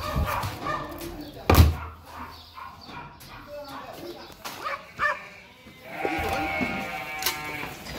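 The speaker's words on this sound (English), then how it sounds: "Sausage dog got him." A dachshund barks and yelps in short, sharp bursts while ratting, mixed with several people talking and shouting nearby.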